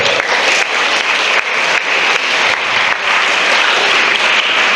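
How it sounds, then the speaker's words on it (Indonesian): Sustained applause from a school audience of students and staff at SMA Plus 17, a dense steady roar of many clapping hands filling the room at close range for the whole stretch. "Tepuk tangan lagi."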